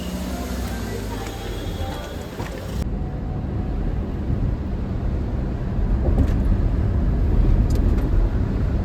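A car driving nonstop along the road to Pandharpur, heard from inside as a steady low road rumble and wind noise that stays constant, with people talking in the cabin.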